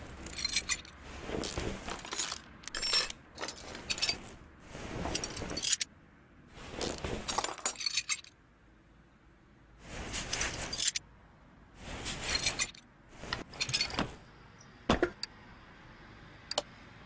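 Clinking metal parts and ratcheting tool clicks come in quick bursts separated by short pauses as a front drive axle is taken apart in Car Mechanic Simulator 2018, close and fairly quiet, with no voices.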